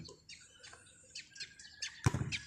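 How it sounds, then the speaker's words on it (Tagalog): A small Eurasian tree sparrow (maya) chirps repeatedly in quick bright tweets nearby, with a brief thump partway through. "Ay, may ibon. Haha, lumapit yung ibon na maliit. Maya."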